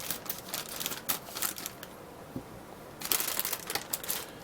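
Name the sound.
cutting open the packaging of a Moebius model kit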